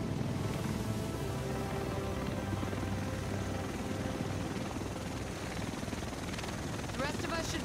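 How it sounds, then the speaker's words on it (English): Helicopter arriving in The Division, set in a game version of Manhattan: a steady, loud rotor drone fills the whole span with a dense low rumble, while voices speak over it. "The rest of us should be in this chopper."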